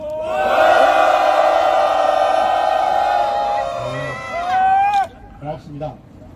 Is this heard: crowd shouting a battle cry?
yes